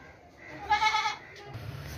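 A large dairy goat lets out a single strained bleat at close range, rising out of low background noise and fading after about half a second, followed by a lower rumbling murmur.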